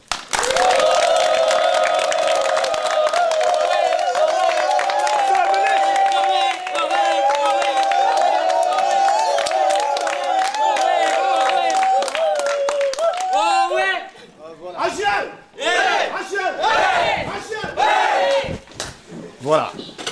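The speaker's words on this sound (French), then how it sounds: "Merci d'applaudir." An audience at a formal ceremony welcoming a minister claps loudly along with a long, sustained cheering cry, then the applause breaks into scattered, fading claps.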